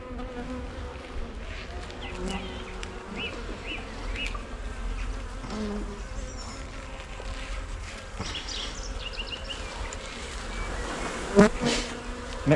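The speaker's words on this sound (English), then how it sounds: "Wow, so many bees." Dense swarm of honeybees droning steadily during a hive inspection as a full brood frame is lifted, a close continuous buzz with individual bees whizzing past, plus a few soft knocks and handling sounds near the end.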